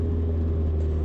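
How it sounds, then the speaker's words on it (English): Steady, loud engine drone inside a Cessna light aircraft under power while landing uphill on a sloped airstrip, a constant low hum and rumble with no breaks. "You can hear the motor, the amount of power I need to give"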